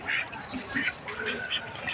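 Farm ducks quack in a few short nasal bursts at moderate distance, against a steady outdoor background with some faint murmuring.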